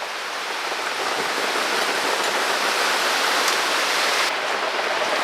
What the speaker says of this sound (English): Spin it until all the water's out.